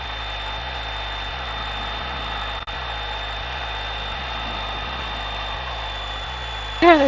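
A light aircraft piston engine runs steadily at run-up, a constant droning hum with a faintly pulsing low throb, heard from inside the cockpit with a brief dropout and a short burst of sound at the end.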